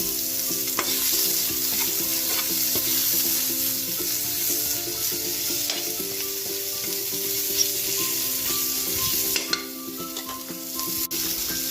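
Onions sautéing for ginisang munggo sizzle steadily in hot oil, a close, continuous frying hiss with occasional stirring clicks and scrapes and no talking.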